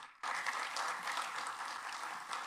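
Applause from a symposium audience following a speech by a labour minister, starting abruptly and holding steady as a dense, continuous wash of many hands.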